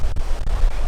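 Ocean surf washing up onto Waikiki Beach around bare feet, a steady close rush of water and wind buffeting the microphone, with no talk.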